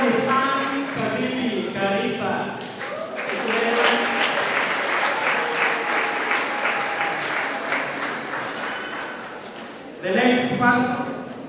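Graduation ceremony audience applauds for several seconds between graduates' names, a steady broadband wash of clapping framed by an announcer's voice before and after.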